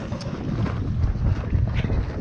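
Strong wind buffets a sailboat, gusty rumbling and microphone-battering roar rising and falling in close, uneven surges.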